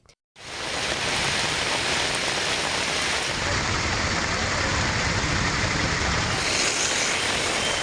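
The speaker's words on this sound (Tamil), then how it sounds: "பெய்த கனமழையால் சாலையில் தண்ணீர் பெருக்கெடுத்து ஓடியது" Heavy rain pours down steadily in Melur, Madurai district, with water streaming along the road, a loud, dense, continuous hiss that holds unbroken after a brief quiet start.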